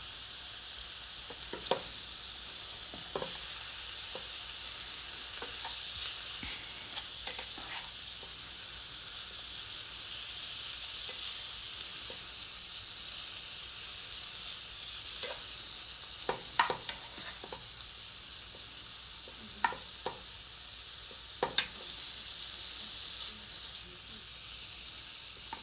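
Hickory smoked bacon frying in a pan, a soft continuous sizzle with occasional sharp pops and crackles, quiet and steady, with no voices.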